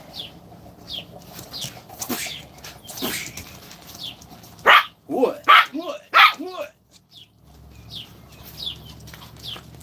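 A dog gives a burst of loud, close, rapid barks in the middle, with quieter yips before and after and a person speaking nearby.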